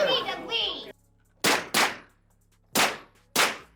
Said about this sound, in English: I don't know why he brought the unsuppressed gun. This dumbass is too loud.